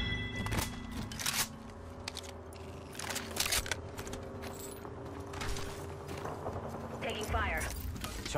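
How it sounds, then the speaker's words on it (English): Mechanical clicks, clunks and a rising whir from a shield cell charging in Apex Legends, set among game ambience, with a voice briefly speaking near the end. "Charging up my shields."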